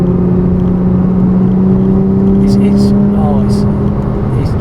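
A Porsche Cayman drives along a road, giving a steady engine drone with a strong low hum and tire roar from inside the cabin. Faint clicks and noises come through partway.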